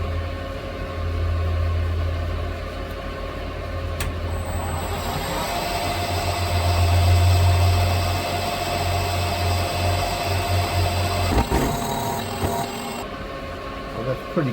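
A Hafco HM-54GV milling machine cuts a counterbore for an Allen-head bolt, giving a steady, loud motor and spindle hum with high whining tones and grinding throughout, brief clunks near the end, and no pauses.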